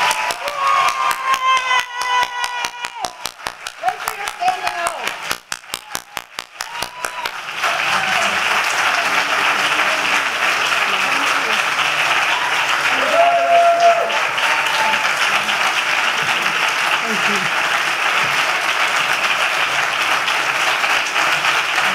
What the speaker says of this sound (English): let's give them a little round of applause